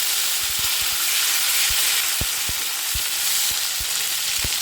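Steady hiss of chopped tomato frying in hot oil, with occasional soft taps and stirring clicks throughout; no voices.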